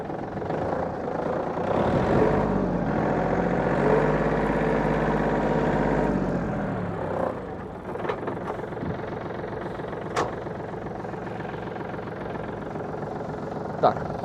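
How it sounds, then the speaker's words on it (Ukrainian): A Yanmar F230 compact tractor with a rotary tiller raised runs loud and steady under way for about seven seconds, then its engine note drops to a quieter, even drone with a few faint clanks. "хочу вам показати трактор власне в самому русі"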